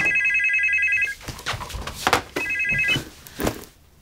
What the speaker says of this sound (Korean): 결국 서연은 밤이 돼서야 영숙의 전화를 받는데